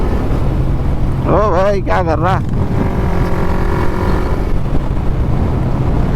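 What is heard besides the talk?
Yamaha MT-15 motorcycle riding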